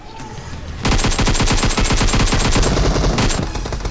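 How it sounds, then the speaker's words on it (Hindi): Rapid automatic gunfire in a mobile battle royale shooter, a dense burst of rhythmic shots that starts suddenly and keeps going for several seconds with a short pause near the end, loud and close. "सामने का ओर से फायर आ रहा है"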